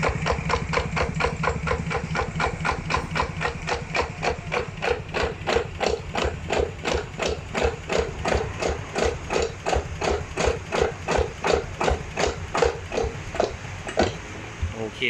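A ZT180 tractor engine running close by with a fast, steady chugging beat that rises and falls as it is revved, loud and continuous throughout.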